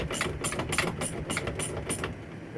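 A homemade strut spring compressor being cranked down by hand, a close ratcheting clatter repeating in a quick even rhythm of about eight clicks, with no talk.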